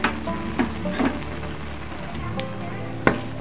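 Potato croquette filling stirred with sweet soy sauce in a pan, sizzling steadily with a few scraping strokes of the spoon at irregular intervals, close and moderately loud.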